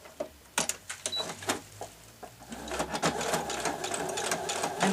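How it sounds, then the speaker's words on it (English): A sewing machine runs in short bursts, then settles into a steady continuous long-stitch whir near the fabric edge while sewing slippers, close and fairly loud. "I'm going to do another one of those long stitches on my sewing machine close to the edge"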